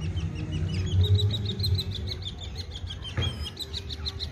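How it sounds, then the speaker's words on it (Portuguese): Small birds chirp and tweet repeatedly in a city park in São Luís, quick high calls in a rapid series over soft outdoor background noise. "O pássaro cantando, os passarinhos ali."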